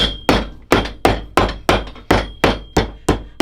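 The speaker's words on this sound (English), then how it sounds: "and then we hammer down the center" Ten sharp, evenly spaced hammer blows on the leather of an Allen Edmonds Normandy boot, loud and close, each strike ringing briefly before the next.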